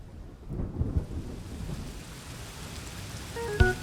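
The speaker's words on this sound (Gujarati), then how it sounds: "લાગે છે વરસાદ થવાની છે" Thunder and rain in a Gujarati rainy-day cartoon: a rolling thunder rumble over a steady wash of falling rain, closing with a short bright tonal hit.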